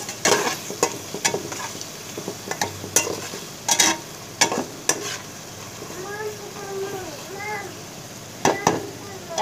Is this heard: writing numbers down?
no